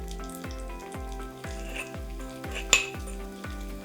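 A sausage and bacon broth cooks in a stone pot, a steady close sizzle broken by a regular series of soft low knocks about every half second, with one sharp clink near the end and no talking.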